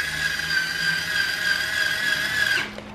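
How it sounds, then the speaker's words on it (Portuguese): A weak electric screwdriver drives screws into the motor cover of a Mondial VTX-40 Super Turbo fan. Its steady, close, high-pitched whine runs for under three seconds, then stops abruptly. "Essa parafusadeira é bem fraquinha, né?"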